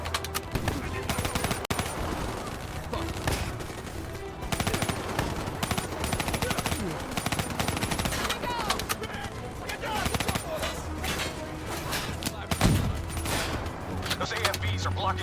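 Rapid machine-gun fire in the video game Black Ops 3 rattles on throughout in loud, dense bursts, overlapping with other shots and mechanical clatter, with voices mixed beneath the battle.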